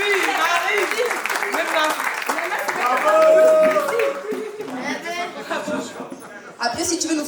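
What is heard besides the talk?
applause for Maxime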